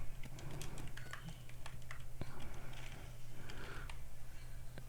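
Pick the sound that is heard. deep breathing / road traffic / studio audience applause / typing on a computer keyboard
typing on a computer keyboard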